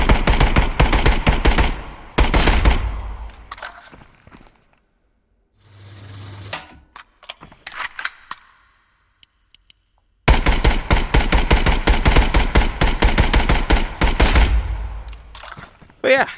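Rapid bursts of 5.56x45 rifle fire in the shooter game Contractors Showdown, loud and close, with dense automatic volleys at the start and a long sustained string at the end, separated by a quiet stretch with scattered small sounds.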